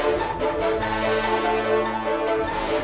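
Dense trap beat section in FL Studio, with a pizzicato arp layered over sustained low brass, forms a thick continuous wall of tones with deep held bass notes throughout.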